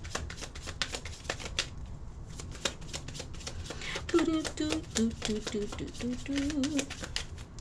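Tarot cards are shuffled in rapid, continuous riffling clicks, close and crisp throughout, while a voice talks briefly partway through.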